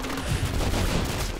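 Gunfire in a video game sounds as a dense, loud burst of overlapping shots, a rapid rumbling fusillade lasting the whole short moment, with no voices.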